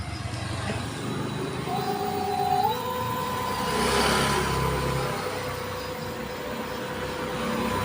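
Yakuza electric scooter with a freshly repaired motor running, a steady electric whine that rises in pitch as it speeds up, then holds over a broad rolling rumble with some background noise.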